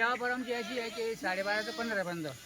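Kathiawari goats at a market give a string of quavering bleats, some long and falling, heard close and loud with speech mixed among the calls.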